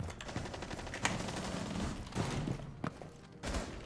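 A shotgun fires in Rainbow Six Siege in a team duel. A few sharp, heavy blasts land about a second or two apart over a steady background of game noise and muffled thuds.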